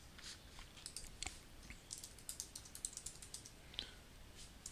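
Quiet computer keyboard typing, a short run of light, irregular key clicks set against a low background hum with nobody speaking, as a word is entered into a web form.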